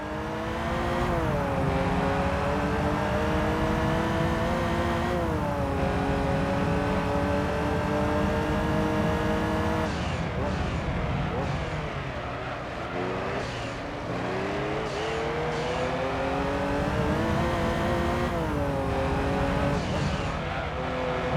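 A Lotus Esprit race car in Gran Turismo 3 drives at Laguna Seca, its engine screaming loud and continuous with rising and falling revs through gear shifts and some tire squeal.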